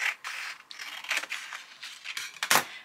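Scissors snipping through paper scraps for a collage journal, a close run of crisp irregular cuts and rustles, ending in a louder sharp snip.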